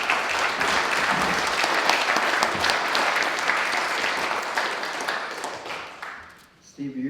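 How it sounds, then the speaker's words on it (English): A roomful of people at a community energy and climate roundtable gives a steady round of applause that fades out, followed by a brief bump of room noise at the end. "Let's give a round of applause."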